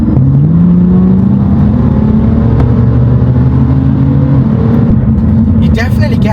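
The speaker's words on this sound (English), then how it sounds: "You definitely get a lot of tire noise from this car." A tuned, stanced BMW M4 F82 cruising on back roads, with a steady engine drone and rising gear tones over a constant loud roar of tire noise, heard from inside the cabin with someone talking throughout.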